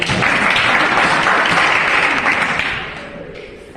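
An audience claps steadily and loudly for several seconds, the applause thinning near the end, at a gathering where a song about daughters is being sung.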